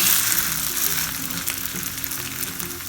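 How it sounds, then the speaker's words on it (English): Potato aloo tikki patties fry in hot oil in a pan, a loud continuous sizzle and crackle heard up close without talk. "So take 1 tikki and spread it around in the oil so that it starts to cook"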